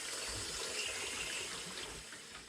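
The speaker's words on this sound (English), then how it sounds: "we're filling up this bowl of water with a little strainer in here" Tap water runs into a bowl with a small strainer inside, a steady, close, fairly loud rushing splash that continues without pause.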